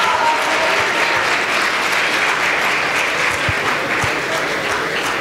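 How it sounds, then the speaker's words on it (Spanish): Audience applause at a panel on strengthening justice in Guatemala: dense, steady clapping from a large crowd that holds at an even, loud level for the whole stretch without a break. "Los aplausos son para Claudia Paz y Paz,"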